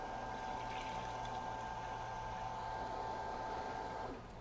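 A Ryobi RY20UP02 18V telescoping pole pump running steadily and pumping water from a bucket, a constant whirring motor hum with a faint watery rush, close and even, easing off at the end.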